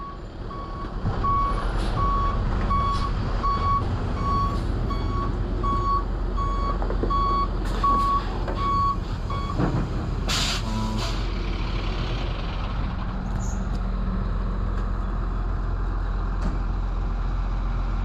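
A reversing alarm on heavy equipment at a dozer field repair site beeps steadily in a regular rhythm for about ten seconds, loud over a constant low engine rumble, then stops while the machinery keeps idling.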